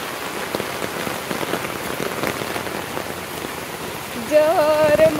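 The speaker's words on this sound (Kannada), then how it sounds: "ಇವಾಗ ನೋಡಿ ಹೆಂಗ್ ಬರ್ತಾ ಇದೆ ಮಳೆ." Heavy rain pours steadily over a village, a dense continuous patter close by, with a brief tonal sound rising near the end.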